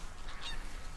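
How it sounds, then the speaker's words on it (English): Geese milling about in a farm field in West Sussex let out a faint honk or two, brief and somewhat distant over a low outdoor background. "there's some geese just milling about"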